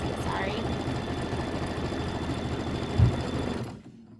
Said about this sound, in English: it's stitching right now, these are the fold lines.